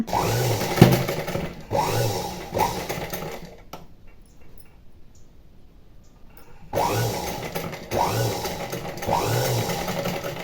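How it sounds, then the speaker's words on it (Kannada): A sewing machine with a normal foot stitches thread piping in quick repeated bursts, a few seconds of running, a quiet pause, then the close mechanical whirring and clatter resumes. "ಸ್ವಲ್ಪ ನಿಧಾನ ಆದರೂ ಪರವಾಗಿಲ್ಲ ಹುಷಾರಾಗಿ ಸ್ಟಿಚ್ ಮಾಡ್ಕೊಂಡು ಬನ್ನಿ"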